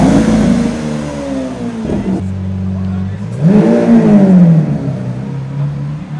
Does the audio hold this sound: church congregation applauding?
no